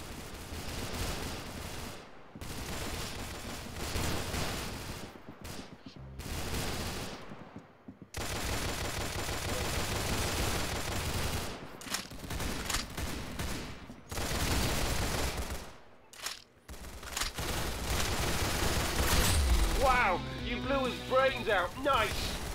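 Dense rapid gunfire from an online shooting video game, bursts of automatic fire and single shots packed close together and loud, with brief silent gaps and voices talking over the action.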